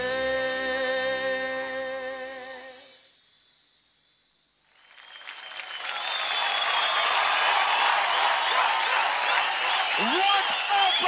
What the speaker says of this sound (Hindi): जोरदार तालियां हो जाए पृथ्वी और विवेक ले